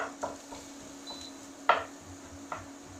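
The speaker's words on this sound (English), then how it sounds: "I'm just going to break down some of those onions there as well with the spoon" A spoon prods and stirs sliced onions in a pan for tomato sauce, giving a few sharp scrapes and knocks against the metal over a faint steady background, with no talking.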